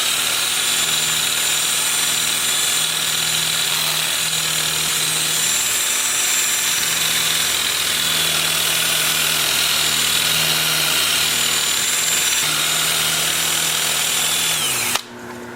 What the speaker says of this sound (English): I'll have the lathe spinning in reverse to start with at about 400 RPM, and then I'll switch to forward and back and forth, forward, reverse with this